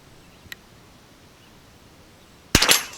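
Savage Rascal .22 LR youth bolt-action rifle fires one sharp, close shot near the end, preceded by a faint click and quiet background.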